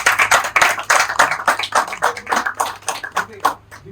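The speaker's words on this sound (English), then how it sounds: "Please clap for him." An audience in a parliamentary-style school debate applauds with loud, close, continuous clapping that thins out toward the end.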